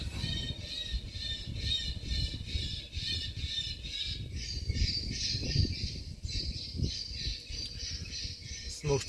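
Recorded bird distress calls blare from a sound system at a warehouse to scare birds away, a harsh repeating squawking pattern playing continuously over low rumbling background noise.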